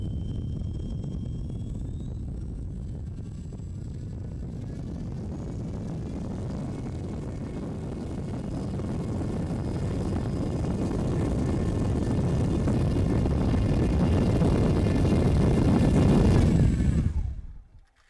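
A Leopard 2830 1290Kv brushless motor spinning a 947 slow fly propeller on a 3-cell battery, bench tested, whirs as a loud steady drone that gradually swells in pitch and volume before abruptly cutting off.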